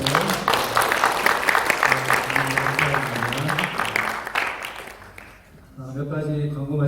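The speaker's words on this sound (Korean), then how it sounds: "네, 환영의 박수로" Korean church congregation applauding to welcome first-time visitors at a Sunday service in Hamilton, New Zealand, with dense clapping under music and voices, fading out near the end.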